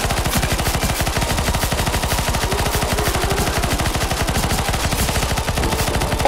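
Rapid automatic gunfire from CSGO zombie escape rattles on in a fast, steady, unbroken stream of close, loud shots.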